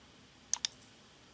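A computer mouse gives two crisp clicks followed by two fainter ones, close and quiet, while working in design software, with no talk.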